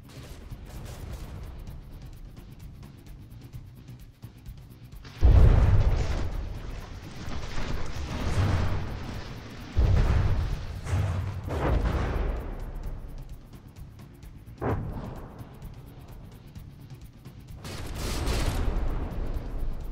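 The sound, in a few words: high explosive shells hitting ships in a video game battle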